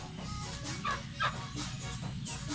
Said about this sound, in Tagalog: Maraming mga manok dito.